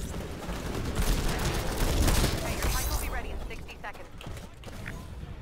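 Rapid Smart Pistol fire in a video game, crackling bursts of shots over a dense, noisy game mix. The shots are loudest in the first half and thin out into scattered sharp reports toward the end.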